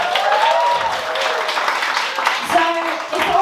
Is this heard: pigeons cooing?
no